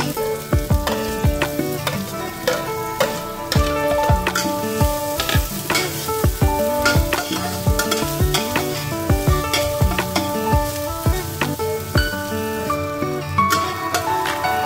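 Garlic frying in a pan for home-style chicken adobo, a steady close sizzle broken by frequent sharp scrapes and clinks of stirring, with no talking.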